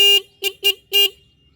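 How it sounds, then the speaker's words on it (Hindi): Horn of an SP 125 motorcycle with a year and 40,000 km of use: four short, loud, close electric beeps in an uneven rhythm, the last held slightly longer, with no talk. "इस बाइक का आपको अब हॉर्न टेस्ट करके दिखा देता हूँ"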